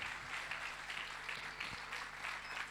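A church congregation at a baptism service breaks into sustained applause, a steady, dense patter of many hands clapping at once, moderately loud and even throughout with no clear talk over it.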